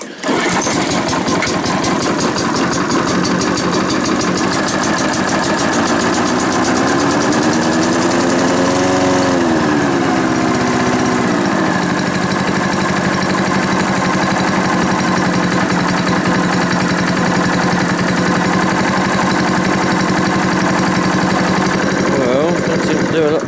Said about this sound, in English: And then all of a sudden it dies. Might have a little bit of a sticky throttle.